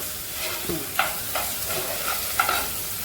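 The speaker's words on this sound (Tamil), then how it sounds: "இப்போ வெங்காயம் பாதி வதங்கிடுச்சு" Onions sautéing in a pan, an even background sizzle punctuated by a few sharp spoon scrapes and taps against the metal, close and moderately loud, no speech.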